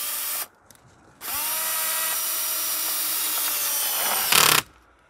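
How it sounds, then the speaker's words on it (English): A portable power drill bores into a metal grommet on a safety tarp: a brief start, then a steady, close, high whirring run of several seconds ending in a louder burst before stopping. "I'm just going to take my drill and right into the middle of the grommet."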